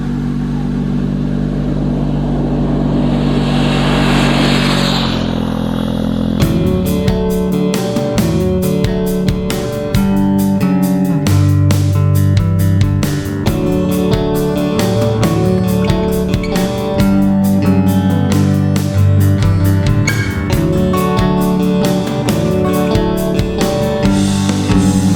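Steady engine drone of the Falcor camper van on the move, a low continuous hum with road noise and some music-like tonal layering, loud and close throughout with no talk.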